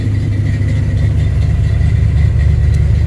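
A 1975 Ford F-250 Highboy with a Comp Cams 279 cam idles steadily at close range, a loud, even low rumble holding for a few seconds with no voices over it.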